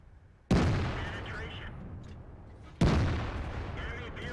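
Two heavy tank cannon shots from a T57 Heavy in World of Tanks, fired at the turret of an AMX 50B French heavy tank. Each is a loud, sharp boom followed by a long rumbling decay, and the second comes about two seconds after the first.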